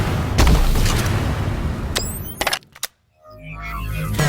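Video game gunfire from a sound-replaced Overwatch reel: a few sharp booming shots with a brief dropout to silence, then a rumbling low tail, loud and close.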